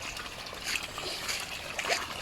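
Water from a small stream feeding an improvised mini dam flows with a continuous trickling, splashing rush, close and steady throughout without talk.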